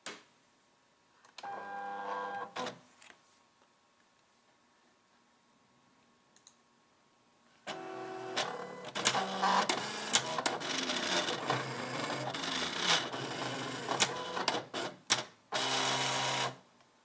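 A cutting machine makes a test cut through green tape laid on a cutting mat, for 1/35-scale Dragon StuG IV schurzen: a short whirring burst, a quiet pause, then a longer busy stretch of motor whine and clicking carriage moves.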